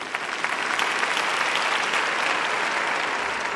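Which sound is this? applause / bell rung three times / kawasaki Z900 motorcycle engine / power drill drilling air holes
applause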